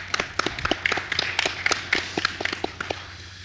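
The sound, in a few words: audience applause at a clan conference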